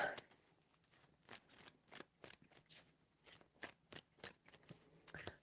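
Tarot cards being shuffled by hand, a quiet close series of quick riffling flicks and soft slaps in an uneven rhythm, with short pauses between bursts.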